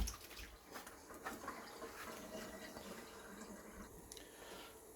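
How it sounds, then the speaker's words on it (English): Mulukhiya leaves rinsed in cold water, with a steady faint trickle and splashing from a tap into a bowl or sink, with no talking. "I'm going to wash them with some cold water a little bit."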